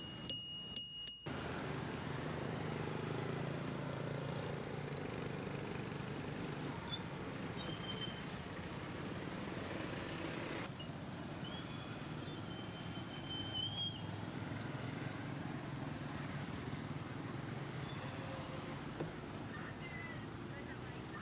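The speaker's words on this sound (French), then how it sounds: "une avenue parcourue par un flux continu de véhicules, motos, camions, voitures, tout y est" A constant wash of Southeast Asian city avenue traffic, motorbikes, trucks and cars blending into a steady roar, with occasional louder swells and faint distant tones.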